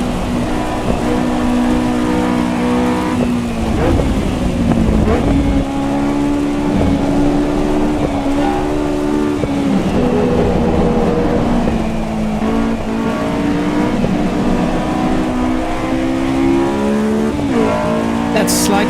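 Race car engine from Assetto Corsa Evo running laps, a steady loud whine with shifting revs and gear changes throughout, a tire squeal near the end, with someone talking over it.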